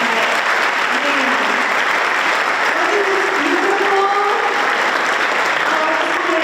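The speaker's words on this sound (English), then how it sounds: "Let's just give a round of applause for our kids are in here." A packed room of grandparents and families claps steadily for schoolchildren at an elementary school Grandparents Day event, the applause loud and continuous while a voice speaks briefly over it.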